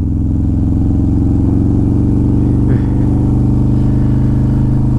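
A 130 cubic inch Harley-Davidson Road Glide motorcycle riding in second gear, its engine giving a loud, steady low throbbing rumble that holds constant for the whole stretch, with no talk.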